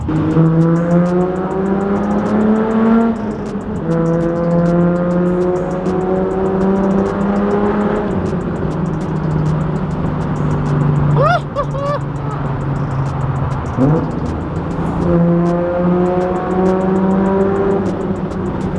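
A Datsun car engine roars and echoes inside a tunnel with the windows down, revving up and down in rising, falling sweeps that stay loud throughout, with a brief higher squeal near the middle.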